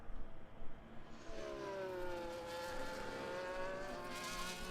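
Race car engine in the Las Vegas Grand Prix of a sim racing league video game, a rising whine with steady harmonic pitch climbing as the car accelerates down a straight, continuous and fairly close, alone without talk.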